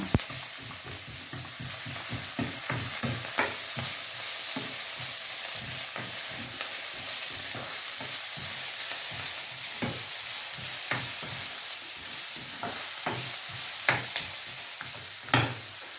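Fennel seeds hit hot oil in a frying pan and are stirred, giving a bright, constant sizzle with rapid scraping strokes of the spoon through the first half, then fewer scattered clinks, close up and wordless.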